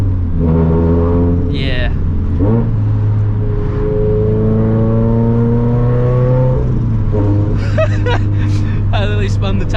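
A boosted FRS car spins its tires at partial throttle. The engine drone is heard up close from inside the car and rises briefly in pitch, while a person talks over the steady noise.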